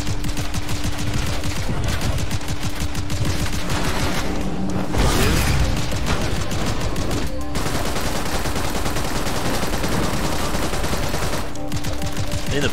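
Rapid bursts of pistol fire crackle almost without pause in the rogue-like shooter Seraph, dense overlapping shots that stay loud and close, with one brief lull midway before the shooting resumes.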